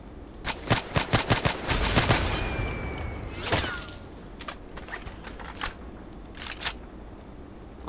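An SVU-AS automatic sniper rifle fires in the shooter game Contract Wars, loud near bursts of rapid shots followed by scattered single cracks and mechanical clicks.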